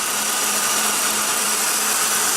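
A 1996 Ford Taurus 3.0-liter V6 running steadily, an even, continuous engine hum with a broad hiss on top and no change in pitch, close and fairly loud.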